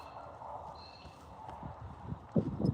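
A horse named Joda, a former racehorse, walks with soft, uneven hoof clip-clops close by, the steps growing louder and more distinct toward the end against quiet outdoor ambience.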